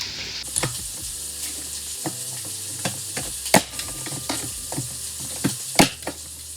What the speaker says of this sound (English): I want to put onion in there.